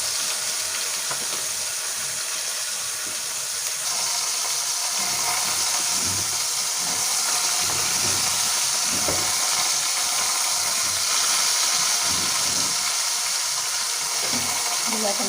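Garlic sautés in a pot, giving a loud, continuous sizzle and hiss, with faint scraping from stirring close by.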